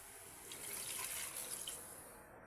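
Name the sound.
water being added to Afang soup pot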